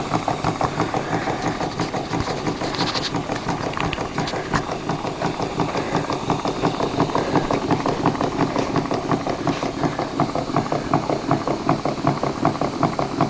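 A very old line shaft adapted with longer legs, driven by an old steam plant, runs steadily with a continuous low mechanical churn and fast repetitive rattling knocks throughout, loud and close with no talk.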